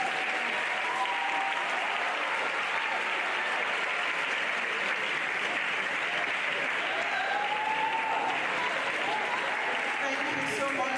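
Sustained applause from a lecture audience fills the room evenly for the whole stretch, a steady dense wash of many hands clapping with no break, following an academic talk on sociophonology.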